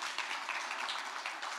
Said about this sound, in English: yourselves a really big round of applause